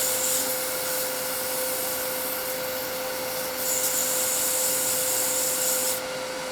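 Sandpaper rubs against a wooden pendant ornament in a continuous, steady scratching hiss over a constant machine hum, close and even, with no talk.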